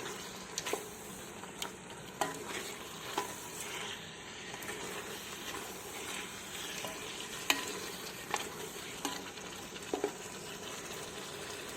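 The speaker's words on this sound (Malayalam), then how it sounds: "കറിവേപ്പിലയും ചേർത്ത് ഇത് നമ്മൾ നന്നായിട്ട് വഴറ്റുകയാണ്." Chicken biryani masala with curry leaves being sautéed in a pan: a steady sizzle runs throughout with frequent short scraping stir strokes, close and moderately loud, no voices.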